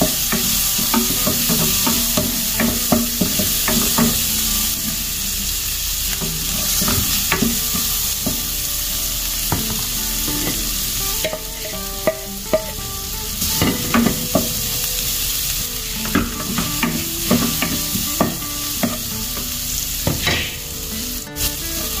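Aromatics sauté in a hot pan with a loud, continuous sizzle, broken by frequent clinks and scrapes of a utensil stirring, close up with no talking.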